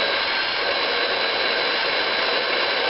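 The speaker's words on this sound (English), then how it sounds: "So what I'm going to be doing with this is blow dried up." A hair dryer blows steadily at close range while hair is being blow-dried with a brush, a continuous loud airy whoosh with no talk.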